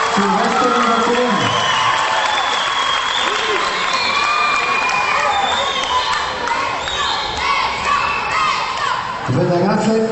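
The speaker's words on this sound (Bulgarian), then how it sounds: "Айде малко аплодисменти за Силвестър и Веселин!" Crowd applause and cheering at an amateur boxing show in a hall, a dense, steady roar of clapping and shouts filling the room for about ten seconds, with some voices calling out over it.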